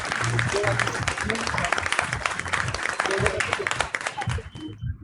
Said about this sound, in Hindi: प्लीज 50 तालियां बजाएं